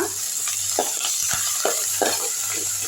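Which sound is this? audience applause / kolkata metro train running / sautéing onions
sautéing onions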